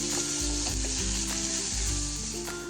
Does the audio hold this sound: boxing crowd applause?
no